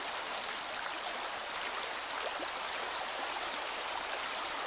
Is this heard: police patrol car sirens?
no